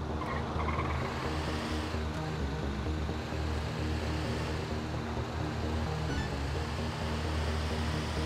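A car driving in GTA 5, a steady, dense engine and road roar with faint tire noise, continuous and fairly loud throughout, with no talking.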